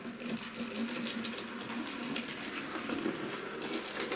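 A Tornado R1169 model steam locomotive runs on a test track with a steady, faint mechanical whir. Soft rhythmic clicking from the wheels carries on throughout, close by and without talk.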